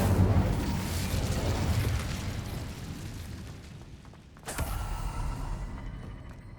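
Incendio fire spell from the Hogwarts Legacy video game, a sustained loud whooshing roar of flame that dips briefly and then flares back up with a sharp burst.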